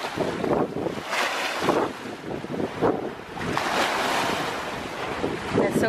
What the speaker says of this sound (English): Wow, that's a lot of water coming up.